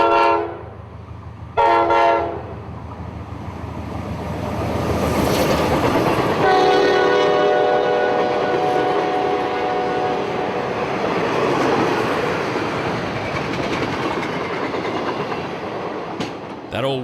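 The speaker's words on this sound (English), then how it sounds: "a work train headed somewhere north of here" A work train rumbles past close by on the S-Line, crossing an old wooden bridge, its horn sounding in two short blasts before a long steady blare over the rolling rail noise.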